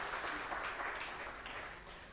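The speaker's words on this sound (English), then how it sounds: "Can I get a round of applause," Audience applause at a climate roundtable in Mombasa, a steady wash of clapping that holds evenly for about two seconds and then eases slightly toward the end, with no voices over it.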